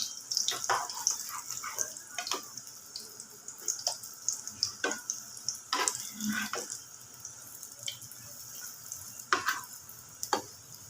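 Eggs and potatoes fry in a pan with a bright, steady sizzle, broken by repeated stirring and scraping clicks and a few sharper crackles up close.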